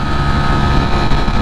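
A Ducati Streetfighter V4 hypernaked motorcycle accelerating hard, its exhaust opening up at high revs into a loud, dense, continuous engine roar heard up close with no talk.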